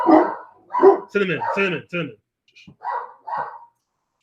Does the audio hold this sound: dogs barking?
yes